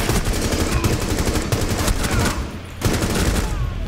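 Rapid gunfire bursts in Rainbow Six Siege, loud and dense, with a short pause before the shooting resumes.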